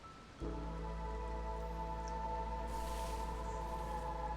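Rain falls in the fantasy city-building game Against the Storm, a steady dense hiss that begins abruptly and holds alongside a low sustained tonal drone throughout.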